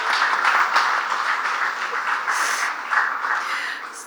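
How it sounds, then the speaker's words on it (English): Audience applause at a Snowflake partner event, a steady broadband patter of many hands clapping at moderate distance for several seconds, evenly sustained without voices standing out. "So give yourselves a great round of applause because this is awesome."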